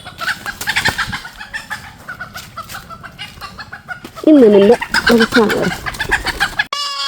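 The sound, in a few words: chickens clucking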